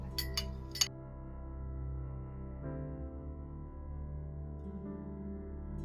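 A metal teaspoon clinks a few times against a porcelain teacup, three light, bright taps early on, quiet and close, over a steady background hum.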